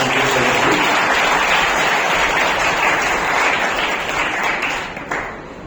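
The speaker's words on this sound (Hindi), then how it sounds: "जोरदार ताली बजा सकते हैं" Audience applause at an award ceremony greeting a jury member, a dense, steady wash of many hands clapping that fills the room, then thins and tapers near the end.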